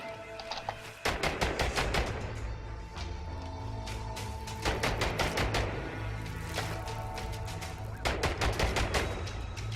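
A turret in INSOMNIA The Ark fires sharp rapid bursts of automatic shots in several volleys separated by brief pauses, loud and close over a low mechanical hum, with no talking.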